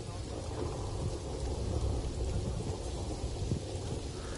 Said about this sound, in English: Oh, it's pouring rain.